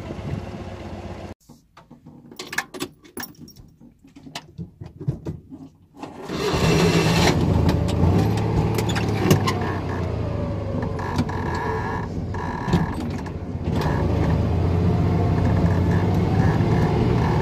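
A Citroën 2CV on a country road: a few clunks and rattles, then the small engine starts pulling away and settles into a steady loud drone while driving, heard from inside the car.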